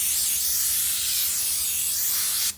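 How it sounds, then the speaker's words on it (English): A compressed air nozzle blows loose sanding grit off a wooden furniture piece in a loud, steady hiss that cuts off sharply at the end. "take our air nozzle and blow off if any of those granules from that came off"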